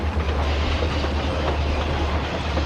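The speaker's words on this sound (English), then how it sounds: "his driver threw on the brakes, and Harris responded with a will" A heavy train rumbles along while braking, with a steady low roar and rattling wheels, continuous and close, with no voices.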